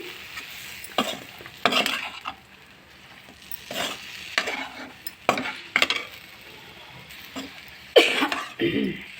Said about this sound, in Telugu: ఇప్పుడు లైట్గా నలిగిపోకుండా కొంచెం ఇలా కలుపుకోవాలి